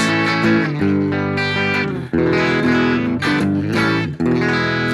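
Electric guitar played through a BOSS GT-1000 amp modeler into a twin JBL cabinet, bright distorted chords with a few short breaks, loud and alone.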